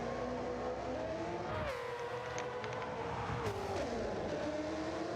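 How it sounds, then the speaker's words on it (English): Dodge Challenger race car with a Hellcat engine roaring loudly at Road Atlanta, its engine note climbing and dropping through gear changes with a sharp upshift midway and another near the end, continuous and close, with no voices. "in the Dodge Challenger, which I'm guessing is fitted with the Hellcat engine."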